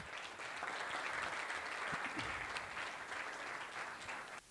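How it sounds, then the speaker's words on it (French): An audience applauds steadily for several seconds. The clapping is dense and even, at a moderate, somewhat distant level, and no one speaks over it. "vous pouvez vraiment vous applaudir"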